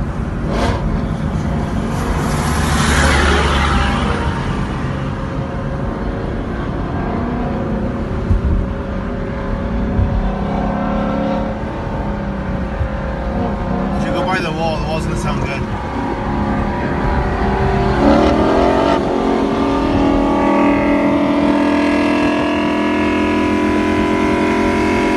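Several Coyote V8 Mustangs, second and third generation, rev and race outdoors in a continuous loud engine roar. Revs rise and fall for the full stretch, with passing swells and faint background voices.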